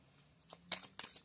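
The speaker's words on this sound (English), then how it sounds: "Let me shuffle a little bit more." Tarot cards being shuffled by hand in a quiet room: a few soft riffling bursts, close and fairly faint, the last two sharper and crisper than the first.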